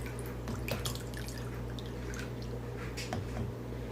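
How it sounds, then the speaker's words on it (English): Water drains and trickles out of a tipped bottle holding water beads, a faint, steady gurgle with scattered soft drips and splashes against low background hum, no talking. "So we're gonna let out all this water."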